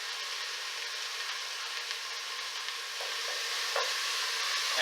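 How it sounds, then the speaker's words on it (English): Minced garlic and onions sauteing in a pan, a soft, even sizzle that stays fairly faint and continuous, with a couple of light stirring clicks near the end. "all this is going to saute and sweat in the pan until my onions begin to turn translucent"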